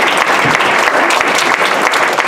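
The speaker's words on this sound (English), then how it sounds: "Clap for Tina Curry" A loud, dense burst of applause from an audience welcoming a speaker at a Black History Month presentation, with steady clapping filling the short stretch.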